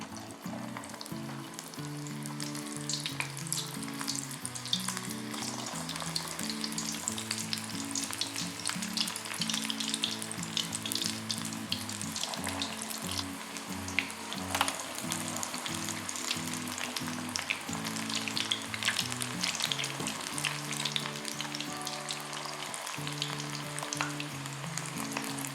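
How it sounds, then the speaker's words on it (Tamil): Bread and onion pakoda balls deep fry in hot oil, a dense, steady crackling sizzle that carries on without pause beneath faint, low background music. "நல்லா ப்ரௌனாக கிறிஸ்பியாக மாறுற வரைக்கும் நம்ம வந்து இதை ஃப்ரை பண்ணணும்"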